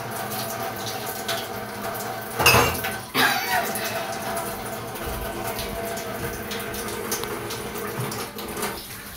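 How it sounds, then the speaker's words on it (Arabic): Dishes and glasses are washed in a home kitchen under a running tap, with a couple of louder clinks and splashes early on over a steady water hiss. "نغسل بقى المواعين الاول كده"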